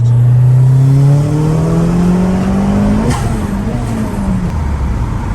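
A 600 BHP Audi TT MK1 with a 2.1-litre stroker engine and 30 psi boost accelerates hard, its loud rising engine note climbing through the gears with a shift partway through, close and continuous.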